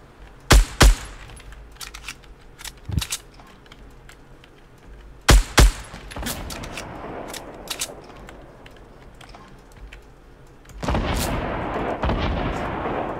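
Fortnite Battle Royale gunfire comes as a few loud, sharp shot pairs and scattered cracks, with quieter distant shots between them and a rising rush of noise near the end.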